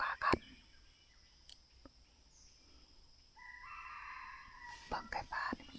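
Wild junglefowl crowing in a mountain forest, a couple of near, loud calls at the start and end with a fainter crow in the middle, over quiet woodland ambience and brief human speech.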